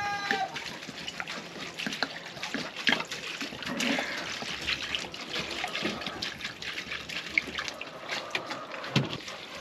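Water poured from a bucket runs and trickles through a homemade survival water filter, a steady soft dribbling with small splashes and drips, fairly quiet and close.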